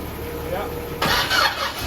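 Race car engine firing for the first time after reassembly, a sudden loud catch and rough revving after a quiet cranking lead-in, with people talking nearby.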